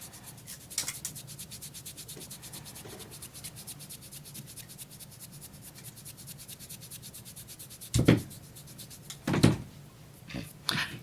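A wax strip is rubbed down onto skin during eyebrow and lip waxing, giving soft, quick repeated scuffing strokes up close, with a few louder bumps near the end.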